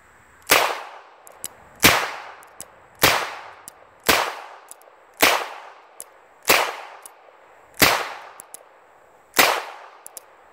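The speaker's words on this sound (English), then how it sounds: "I'm going to load it up again and shoot a whole bunch more" A S&W 317 Kit Gun revolver fires eight sharp, loud shots at roughly even intervals of about a second, each with a brief ringing decay, no voices.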